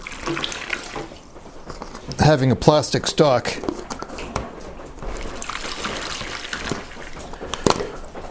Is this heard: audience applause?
no